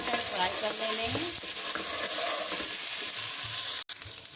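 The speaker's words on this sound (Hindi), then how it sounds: "तो ये देखिए 3 से 4 सेकंड ये मैंने इसको भून लिया है, फ्राई कर लिया है।" Garlic ginger paste frying in a pan for a vegetable soup, a close, dense sizzle with scraping stirs, a few tonal clinks early on and a brief cut near the end.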